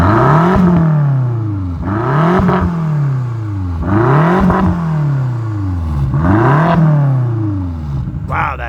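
Exhaust of a 2017 BMW X5M revved repeatedly: four loud, close blips that each rise quickly and fall away, with a throaty drone between them.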